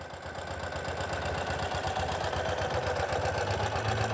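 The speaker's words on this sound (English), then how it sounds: "fires right into life, idling smoothly." A 2016 Ural cT sidecar motorcycle with fuel injection idles smoothly and steadily, a continuous low mechanical rumble with faint rhythmic pulsing, close and unchanging throughout with no talk.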